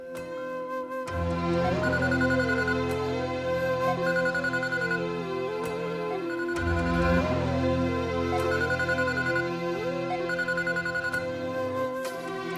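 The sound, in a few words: phone ringing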